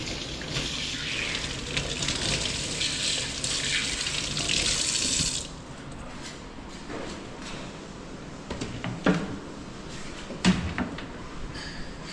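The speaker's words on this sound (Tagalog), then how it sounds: "Malakas yung tubig." Strong faucet water gushes steadily for several seconds, then cuts off, leaving quieter sink clatter and a few soft knocks.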